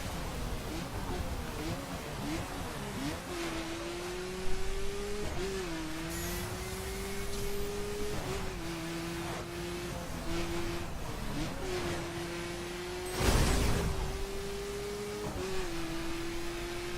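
An Alfa Romeo 4C in The Crew racing game drives at high speed through traffic, its engine droning steadily and rising and dipping through gear changes, with a loud whoosh about two-thirds of the way through.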